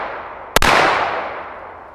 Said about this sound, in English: 2 rounds without a suppressor